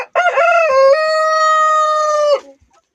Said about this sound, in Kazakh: Бұнда тәк 22 тауық, 5 әтеш